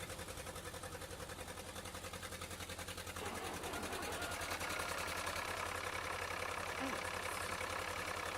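A tractor engine in the Farming Simulator 2013 video game cranks briefly, then catches and settles into a steady, loud mechanical idle with a dense rattling drone, no talk over it.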